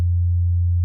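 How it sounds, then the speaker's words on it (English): An analog synthesizer plays a steady low-pitched sine tone, pure and unwavering at constant loudness for under a second, alone with nothing else heard. "It's a sine wave."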